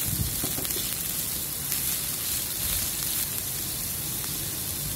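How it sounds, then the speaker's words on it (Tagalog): Garlic and onion sautéing in olive oil in a pan, a steady soft sizzle and crackle throughout, fairly faint and close, with no talking. "gisa lang natin yung ating bawang. Isunod na natin yung sibuyas."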